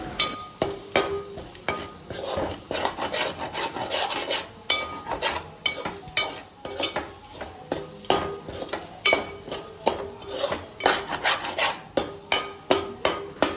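Masala with chili powder and salt frying in a pan, with rhythmic repeated scraping and tapping of a spatula against the pan over a steady sizzle, close and continuous.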